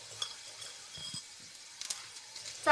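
Fenugreek seeds, with cumin and coriander, sizzling in hot oil in a pan for a baingan bharta, a soft steady fry with occasional stirring clinks and a brighter burst of sizzle at the end.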